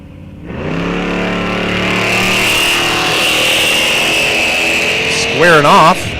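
1966 Pontiac Le Mans muscle car at a drag strip, its engine roaring steadily and loudly, building in pitch as it revs, with a brief warbling tone near the end.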